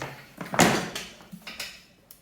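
Several metallic creaks and clunks from a metal motorcycle stand holding an electric scooter, shifting under weight, one louder knock followed by softer squeaks, close and without talk.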